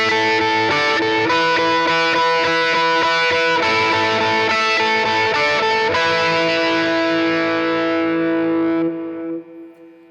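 An electric guitar plays a lick through effects, with distorted, echoing repeated notes ringing in a rhythmic delay pattern before the final chord sustains and fades out.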